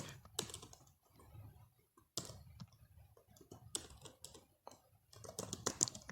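C++ code being typed on a computer keyboard: close, quiet bursts of rapid key clicks in uneven clusters separated by short pauses.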